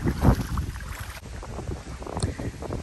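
Gusty wind on a Thai farm in the rainy season buffets the microphone with low rumbling bursts, loud and close, over faint outdoor background noise.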